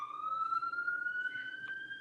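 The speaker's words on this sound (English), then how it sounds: "got a siren going by" Emergency vehicle siren passing in the distance, a single sustained rising wail, clear and alone with no speech.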